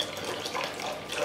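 Water pours steadily and close by into a bowl for Starbucks-style cake pop batter, a brief continuous splashing flow with no talking.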